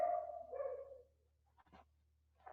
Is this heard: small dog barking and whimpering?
yes